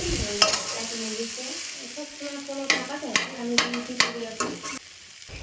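Grated potato is fried with spices in a pan, a soft steady sizzle broken by several sharp spatula scrapes and knocks as it is stirred.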